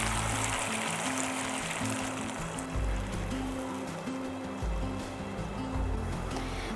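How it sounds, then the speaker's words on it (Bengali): Fish gravy in a pan, made with water and a little sugar, boils steadily throughout, a continuous bubbling wash with low burbling pulses close by, no talk over it. "গ্রেভি একদম ফুটে উঠেছে।"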